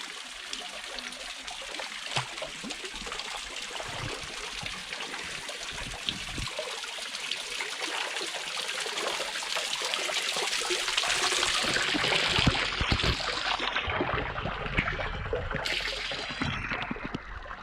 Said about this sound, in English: check that out where it's all just cascading over the rock down into this pool